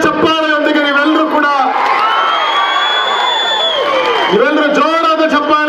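A crowd cheers and claps as Karnataka Chief Minister Siddaramaiah arrives on stage at a memorial tribute event for a swamiji, with loud amplified voices and shouting over a continuous roar of the gathering.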